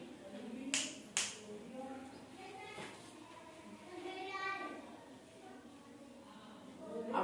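Two quick finger snaps near the start, crisp and close, followed by children's voices talking softly in the background during a counting activity.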